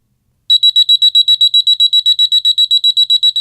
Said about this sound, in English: When they start to wet, the sensor detects this and triggers the alarm to wake up the child